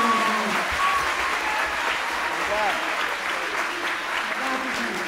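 Applause at a public hearing, a steady wash of clapping from an indoor crowd that holds at a moderate level throughout, with a few faint voices underneath.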